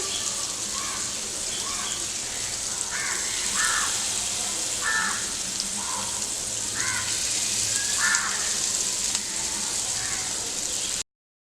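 Paneer frying in hot oil in a pan over a low gas flame, a steady bright sizzle and crackle throughout, with a few short cawing calls in the background.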